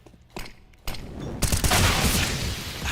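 Gunfire in Counter-Strike during a Virtus.Pro vs ENCE esports grand final: a few sharp isolated shots, then a dense, loud burst of rapid firing that keeps going to the end.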